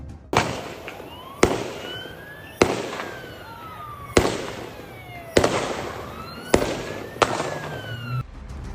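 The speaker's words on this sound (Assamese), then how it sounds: "সন্ত্ৰাসবাদী দুই পিতা পুত্ৰৰ নিৰ্বিচাৰ গুলীচালনাৰ সময়তে সাহসৰে আগবাঢ়িছিল আহমদ" Loud sharp gunshots ring out during an indiscriminate shooting attack by two gunmen, a father and son, about seven cracks spaced roughly a second apart, each followed by a rolling echo, with no voices heard.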